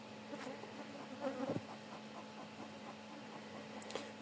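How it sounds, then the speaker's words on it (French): Honeybees buzz in a steady, soft drone around a busy, populous hive, with individual insects whirring briefly past close by against the faint background. "Alors c'est une de mes ruches qui vole le plus"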